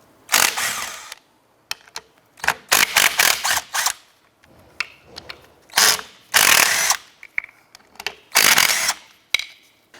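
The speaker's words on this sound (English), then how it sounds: "Using our 13mm deep socket, we're going to go ahead and remove the 4 bolts holding the fan clutch" A 13mm deep socket ratchets out the four bolts holding the fan clutch to the radiator cooling fan blade of a 2004-2012 Chevy Colorado. Bursts of close, rapid clicking come with short pauses and metallic clinks between them.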